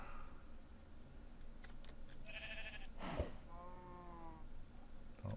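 Sheep in Minecraft with the Galacticraft mod give two short bleats, the second louder and wavering, over faint clicking.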